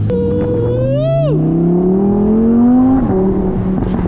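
A Lamborghini engine drones loudly from inside the car on the road, its pitch climbing steadily, briefly dropping at a shift and rising again, a smooth close sustained roar with no speech.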